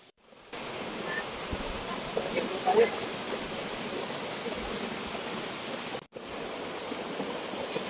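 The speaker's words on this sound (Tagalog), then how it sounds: "Ito na po, ang sapa." A stream in the Philippine outdoors rushes steadily as a broadband wash of flowing water, continuous and fairly close, with a brief dropout near the end and a faint voice speaking now and then over it.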